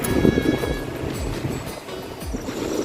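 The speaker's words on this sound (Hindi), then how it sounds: "ये देखो पीछे खिड़की के बाहर पाल ही देख ले एकदम ज़्यादा हवा चलत है" Strong wind blowing outside a window during bad weather, a steady broadband rush with gusty swells and low rumble, fairly loud and continuous, with no voices over it.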